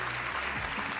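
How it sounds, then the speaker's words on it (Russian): Brief burst of studio audience applause for contestants on a competition show, a steady dense clapping wash, with a faint low tonal sound running beneath it. "Аплодисменты нашим участникам."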